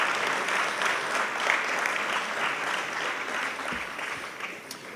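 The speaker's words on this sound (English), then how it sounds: "One more round of applause, please," Guests at an aviation hall of fame investiture dinner applaud as honorees take their seats, a full room of steady clapping that gradually thins toward the end.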